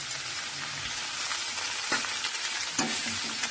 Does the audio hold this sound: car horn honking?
no